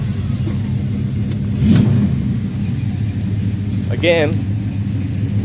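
A 1967 Dodge Dart GT's high-performance 273 four-barrel V8 rumbles steadily at close range, swelling briefly in a couple of spots, with someone talking over it.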